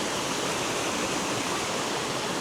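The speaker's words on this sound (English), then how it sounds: "Have the wee stream." A small stream in a forest flows close by with a dense, steady rushing wash, loud and unbroken, and nobody speaks.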